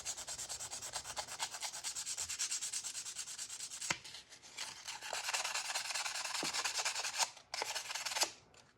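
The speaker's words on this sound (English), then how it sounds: "slowly work them down, and then use finer and finer paper" Metal gun parts on a Tara TM-9 pistol being sanded by hand with progressively finer sandpaper: close, continuous rasping strokes with a couple of short pauses.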